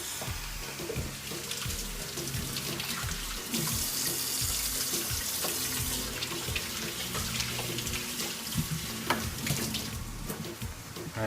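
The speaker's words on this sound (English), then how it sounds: "let me go wash my hands" Running tap water pours steadily into a kitchen sink as hands are washed, a continuous close splashing hiss that lasts throughout with small irregular splatters and no talking.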